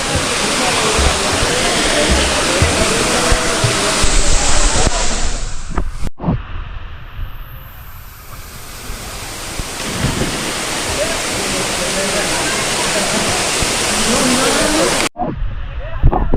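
The Kalmandavi waterfall roars nearby as a steady, loud rushing of falling water, with voices talking over it and a couple of abrupt breaks in the sound.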